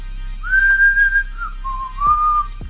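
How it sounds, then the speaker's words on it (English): A person whistles two sustained, wavering tones, the first held about a second and the second rising slightly, loud and close with a couple of soft clicks in between. "I can whistle."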